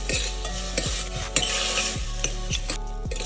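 A spoon scrapes rhythmically around a pan, stirring turmeric, salt, asafoetida and dry coriander powder. Repeated close strokes come about every half second over a soft sizzle.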